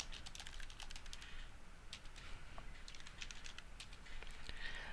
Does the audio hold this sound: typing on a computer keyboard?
yes